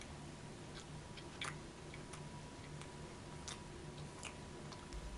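A Laffy Taffy candy bar is chewed close up, soft sticky clicks and smacks recurring irregularly at a quiet level, with no talk.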